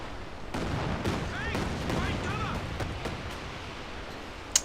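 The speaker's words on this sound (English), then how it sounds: "And a Stuka barrage as well." Stuka dive bomber barrage in Company of Heroes 2, a World War II strategy game: dense rumbling explosions and crackling fire under a steady wash of battle noise, with a voice talking over it.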